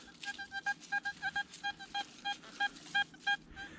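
A metal detector signal: a series of short, regular electronic beeps, clean two-tone pulses repeating quickly, fairly faint over a light background hiss.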